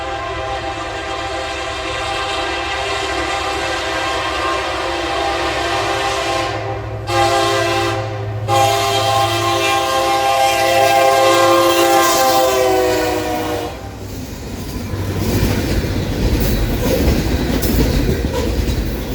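Freight train led by a Norfolk Southern SD70ACE locomotive, long hood forward, passing through Scottsboro, Alabama: a loud, sustained multi-tone horn blasts with short breaks, then drops away into heavy rumbling and rolling of the cars going by close.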